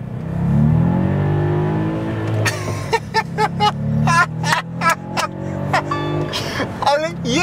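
A Volkswagen Up! GTI engine revs from cold in a close, loud series of sharp blips over a steady low idle, with voices talking over it.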